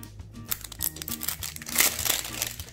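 Blind box packaging being cut open, heard as close, irregular crinkling and crumpling of wrapper with a few sharper crunchy bursts and no talking.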